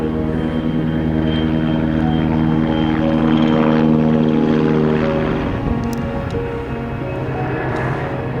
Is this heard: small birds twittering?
no